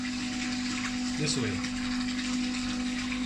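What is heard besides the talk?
borehole water pump running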